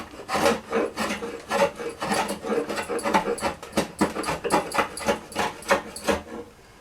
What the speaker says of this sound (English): It'll go with the draw knife.